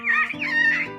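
A human voice imitates a bird's clucking, a rooster-like warbling call sustained for about a second, loud and close with a wavering pitch and no other sound.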